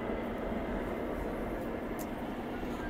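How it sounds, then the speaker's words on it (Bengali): A Kolkata metro train leaves Dakshineswar heading toward New Garia, its continuous rumbling roar of wheels and traction steady and near, with a faint brief high squeal midway and no talking. "মেট্রো ছেড়ে যাচ্ছে, এটাই যাচ্ছে নিউ গড়িয়ার দিকে।"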